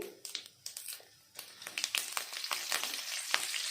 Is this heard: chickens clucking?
no